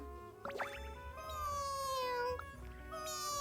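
A cartoonish cat meows repeatedly in Genshin Impact, drawn-out tonal mews rising and falling, close and clear over a low game background hum.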